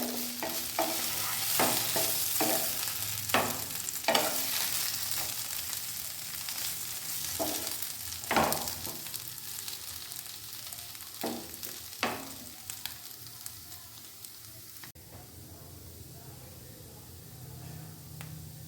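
Potatoes fry in a pan for a tangy-spicy dry aloo dish, a continuous soft sizzle broken by repeated scraping stirs of the spatula, fairly quiet and steady with no talking.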